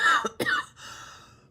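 A single close cough, followed by a short throat-clearing sound and a quiet breath, with no talking.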